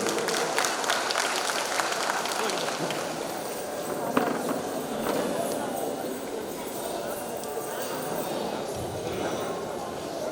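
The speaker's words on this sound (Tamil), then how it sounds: "அவருக்கு ஒரு கரகோஷம் கொடுத்து நம்முடைய ஆதரவை தெரிவித்துக் கொள்கிறேன்" Audience applause for a performer at a Salangai Pooja classical dance debut, dense steady clapping filling the whole stretch at an even loudness, with a brief sharper burst partway through and a low murmur of voices beneath.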